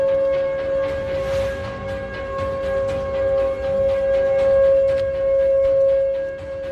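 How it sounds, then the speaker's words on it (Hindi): A tornado warning siren wails at night in Dallas, Texas, holding a steady sustained tone that swells and fades slightly as it rotates, loud and continuous with a faint background hiss. "ये सायरन टेक्सास के डल्लास शहर में रात को ऐसे ही गूंजा"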